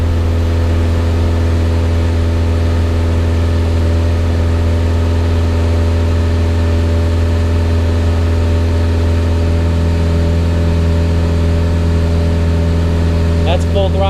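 A Honda F20 engine runs steadily on a dyno held at 2,500 RPM in a DA Integra swap, giving a loud, constant drone with stable harmonics and a brief shift in tone near the end.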